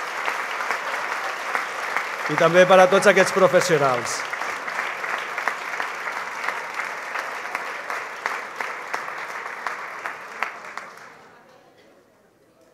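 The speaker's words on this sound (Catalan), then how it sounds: "un fort aplaudiment per a tots aquests alumnes" Sustained audience applause at a high school graduation ceremony in a hall, loud and steady for about eleven seconds before fading out, with a speaker's voice over it at the start.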